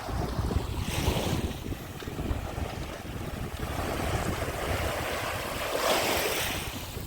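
Sea waves roll onto the shore at the resort village of Karolino-Bugaz in Odesa region, broad surging washes rising and falling with heavy wind buffeting the microphone, no voices.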